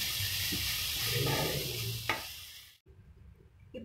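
Grated carrot sizzles and is stirred in a hot pan, a steady frying hiss with a scrape of a utensil, then the sound cuts out.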